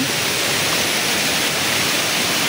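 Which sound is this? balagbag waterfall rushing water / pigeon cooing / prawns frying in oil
balagbag waterfall rushing water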